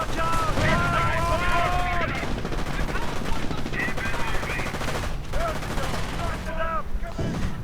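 Busy battlefield gunfire from a real-time strategy game with Rangers and Grenadiers, steady rattling machine gun fire and shots mixed with explosions and unit voices, loud and continuous throughout.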